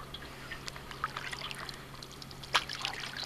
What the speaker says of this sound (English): Can I paddle with one hand and do it?